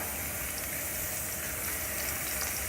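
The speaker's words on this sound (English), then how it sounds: "And we start frying these guys up." Sausage and garlic frying in olive oil in a pan, a steady, close hiss and sizzle that holds evenly without pause, no voices.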